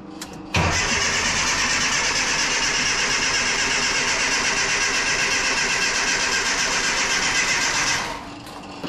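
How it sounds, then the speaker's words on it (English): A Datsun engine cranks over steadily for about eight seconds to build oil pressure, a loud, continuous starter whir heard up close with no talk over it. "I'm gonna crank it through a little bit, get some oil pressure, get the oil circulating through the motor"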